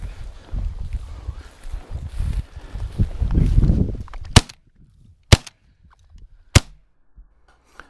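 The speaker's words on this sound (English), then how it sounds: "That shot that I tickled him on almost looks like he's trying to pull a Neo from the Matrix" A shotgun fired at a pheasant while hunting Kansas public land with tall weeds and thick cover: after rustling walking through brush, three sharp, loud, isolated blasts ring out about a second apart, each with a brief tail.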